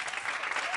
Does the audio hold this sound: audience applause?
yes